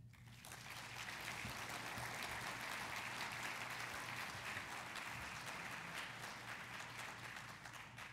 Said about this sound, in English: Another round of applause for Bill.